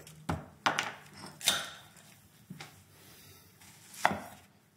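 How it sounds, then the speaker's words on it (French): A knife thinly slicing onion on a board, heard as about half a dozen sharp, separate chops spread unevenly, close and moderately loud, with quiet gaps between and no talking. "Je vais émincer l'oignon. Voilà, en tranches assez fines."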